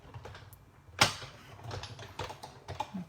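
Paper with a plain die-cut frame for a tombstone treat box is cranked through a die cutting machine, giving faint ratcheting clicks and a sharper clack, quiet and close with no talk.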